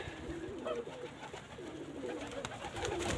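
Pigeons coo over and over while being scattered food in an evening feeding, a soft, layered murmur of several birds that carries steadily through the whole stretch, with no one talking.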